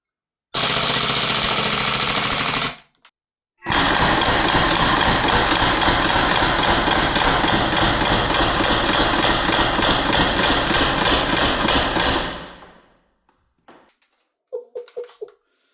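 Long sustained bursts of rapid automatic fire from an Umarex/VFC G36C V2 gas blowback airsoft rifle, a short volley then a continuous string lasting about nine seconds, loud and close, ending with a few clicks.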